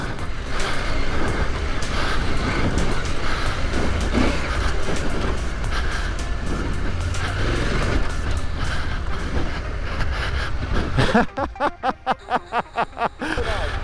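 A Husqvarna Norden 901 adventure motorcycle ridden off-road on dirt, a continuous close engine drone mixed with rushing wind and rumble, giving way near the end to a quick series of rhythmic bumping pulses; no one speaks.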